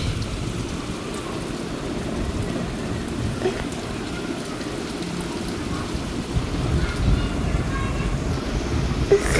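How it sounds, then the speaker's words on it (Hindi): Steady heavy rain pours down in a dense, continuous hiss, with low rumbling underneath and no voices. "अभी भी बहुत ज़ोरों की बारिश।"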